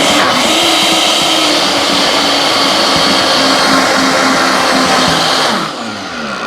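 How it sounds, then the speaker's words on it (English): High-powered blender whirring through a creamy cauliflower sauce, a loud steady motor whine lasting about five and a half seconds before cutting off and winding down. "So now in my high-powered blender,"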